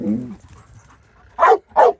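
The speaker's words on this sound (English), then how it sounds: "just the desire to bark at the man in the box" A dog in K9 protection training barks at a man in a box, two loud close sharp barks near the end after a brief low whine at the start.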